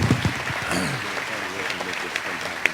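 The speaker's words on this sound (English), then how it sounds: "I just want to get a nice round of applause for the panelists" A conference audience gives a round of applause for the panelists at a Jordan 2011 employment forum, steady clapping filling the room while a voice talks over it.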